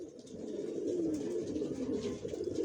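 Original Johnson-line racer pigeons cooing, a steady low rolling murmur from several birds close together, continuous and moderately loud throughout, with no one talking.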